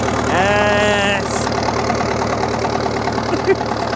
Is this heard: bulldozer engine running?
yes